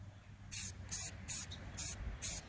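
Five short hissing bursts of spray paint over a stencil on a wooden sign in an even rhythm, each about a third of a second, close and moderately loud with no talking.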